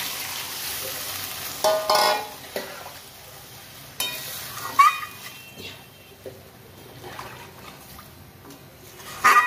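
Broth goes into a pan of frying urad dal fritters and potatoes, giving a soft steady sizzle with scattered clinks and stirring knocks from utensils, close and moderately loud, with no talking.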